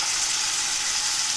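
Tomatoes hit lightly browned frying onions in a pan for a Garhwali dish, a brief, steady, fairly loud sizzle with no talk over it.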